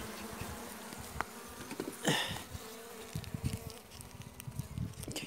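Honeybees buzz around a weak hive being fed syrup, a faint continuous hum with scattered close passes and small knocks, no voices.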